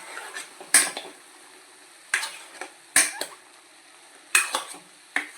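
A spoon scrapes and clinks against a pan while chicken is stirred for chicken pickle, coming in about five short, sharp metallic bursts separated by near-quiet gaps, close and clear.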